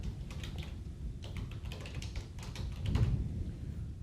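Typing on a computer keyboard to name a layer in design software: a quick run of light clicking keystrokes in uneven bursts over a low background hum, close and fairly quiet.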